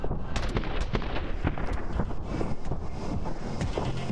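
Rapid bursts of gunfire in My Friend Pedro, sharp repeated shots cracking over a dense, noisy battle background with no pauses.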